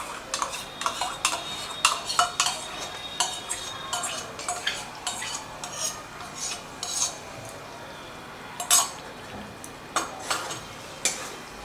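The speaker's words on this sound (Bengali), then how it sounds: "ফেটানো দইটা এবার এর মধ্যে দিয়ে দিচ্ছি।" Metal spoon scraping and clinking against a pan as beaten curd is stirred into a vegetarian pointed gourd curry, a steady run of sharp close taps and scrapes over faint background noise.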